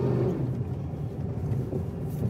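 A car on a road, waiting at a light before reversing out onto a main road to turn around; a steady low engine rumble with mild fluctuations, fairly close and continuous, no talking.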